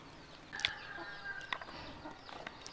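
An Aseel chicken on a breeding farm gives a few short clucks and a brief squawk, fairly faint against outdoor background noise.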